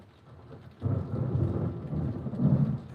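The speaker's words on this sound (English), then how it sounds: "You can hear the rain smacking against the door, too." A thunderstorm rumbles loudly and continuously while rain pelts against a door, the roar swelling after a quiet start and holding steady to the end.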